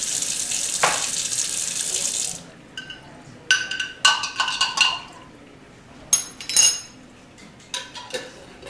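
Hot water runs steadily from a tap for a couple of seconds, then stops, followed by clinks and knocks of dishes and utensils.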